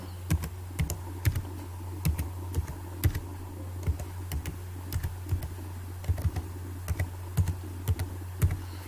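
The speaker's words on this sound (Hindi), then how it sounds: "अभी मैं पासवर्ड एंटर करके दिखाता हूँ।" A password is typed on a computer keyboard, a series of distinct key clicks in small uneven clusters with brief pauses, close and clear over a steady low hum, with no one speaking.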